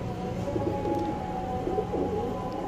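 Pigeons coo in soft, low, repeated murmurs close by at a loft of well-bred tournament racing birds, a steady throaty warble that keeps going throughout with no talk.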